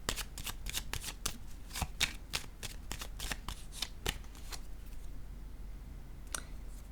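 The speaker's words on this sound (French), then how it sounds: "Je vais déposer une carte sur celle-ci." Tarot cards being shuffled and laid down, a close, quiet run of crisp riffling snaps and flicks in quick succession that thins out and ends with a single card placed down.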